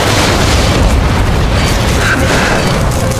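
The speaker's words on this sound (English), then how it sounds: "Missile. Radar site destroyed." A missile explosion destroys a radar site in the combat flight game Ace Combat 7: Skies Unknown, a loud, steady, dense boom and rumble that fills the whole moment with no let-up.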